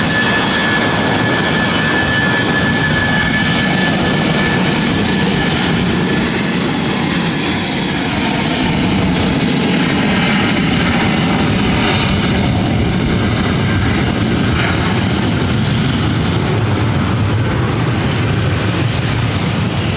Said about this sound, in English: This is Spirit Airlines 2699 taking off to Las Vegas on an A320.